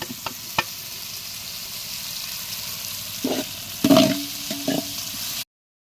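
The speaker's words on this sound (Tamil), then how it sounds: "சுத்தமான நல்லெண்ணெயில வதக்கினா கத்திரிக்காய்" A steady frying sizzle of eggplant sautéing in sesame oil in a pan, with a few knocks and scrapes of a utensil stirring, then abrupt silence.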